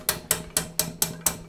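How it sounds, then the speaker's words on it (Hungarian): Ratchet clicking from the hand crank of a Vevor sausage stuffer as it presses the piston slowly downward, six sharp evenly spaced clicks close up with no talk. "hallod a kattogásból, hogy ilyen lassabban nyomja lefelé a dugattyút"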